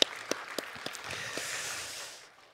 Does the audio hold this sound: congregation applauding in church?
yes